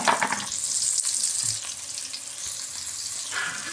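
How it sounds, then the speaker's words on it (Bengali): Onions turning brown with spices in a pan, a steady close sizzle with bursts of stirring scrapes, no talking. "পেঁয়াজটা লাল করে নিব, মশলা কষাচ্ছি"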